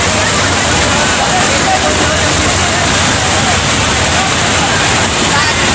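Heavy monsoon rain and floodwater in Mumbra, India, with water flooding roads and submerging vehicles, roar as a loud, continuous broadband wash of pouring rain and rushing water, steady throughout with no clear breaks.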